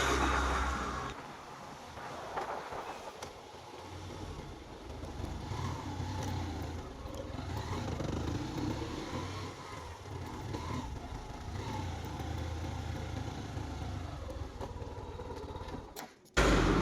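A motorcycle being ridden, its engine droning steadily under broadband road and wind rush throughout, fairly loud and close, with a sharp cutoff near the end.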